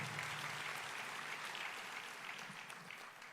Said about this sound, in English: And that is a reason to applaud.